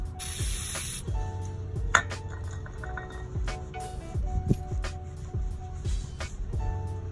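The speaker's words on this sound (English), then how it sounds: "We're gonna get some carb cleaner and then just try to clean it as much as we can." Carb cleaner sprayed onto a VANOS sensor from a BMW N62 V8 engine, a hissing burst near the start followed by a steady workshop background with faint clicks and handling noises.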